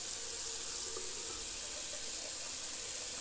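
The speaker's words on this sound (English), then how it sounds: "let's do a little cold water rinse." Steady running cold tap water pours without a break for a rinse, a full broadband rush like a faucet filling a sink, close and continuous.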